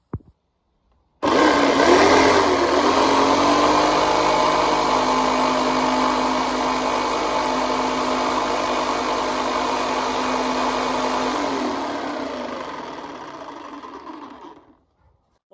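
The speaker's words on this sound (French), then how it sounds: "J'ai fait un trou pour glisser la lame de la scie sauteuse maintenant." Jigsaw cutting wood for a kitchen cabinet aboard a sailboat, starting abruptly and buzzing steadily and close for about twelve seconds before winding down and stopping.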